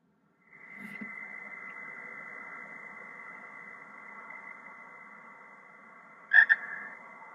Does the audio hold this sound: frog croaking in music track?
yes